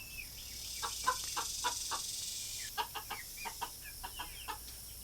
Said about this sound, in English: That rooster don't. He's over there making all kind of noise.